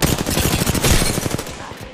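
Automatic weapon fire in the shooter game Apex Legends rattles out in rapid, loud close bursts for about two seconds, then stops abruptly.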